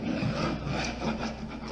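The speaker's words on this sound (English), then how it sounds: "Just got to hit it from different angles, and it seems to come off pretty easy." A scraper works old mastic off drywall in a continuous rough rasping scrape, close and steady, with slight rhythmic swells as the blade passes over the wall.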